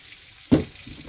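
A brief burst of sizzling as morel mushrooms hit a hot frying pan, rising sharply then fading into a quieter crackle.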